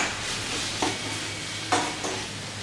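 Masala powder fries in a pan while making a lamb liver fry, a steady soft sizzle with two brief scraping stirs of a spoon, close and free of talk.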